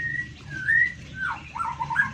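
A white-rumped shama (murai batu) sings clear whistled phrases with rising and falling slides, close and fairly loud over low background noise from a forest setting.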